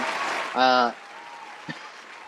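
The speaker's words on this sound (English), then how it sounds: "Applause." A short burst of clapping and cheering from a small group at a trivia night, lasting under half a second, loud against quiet background, then fading into faint room noise.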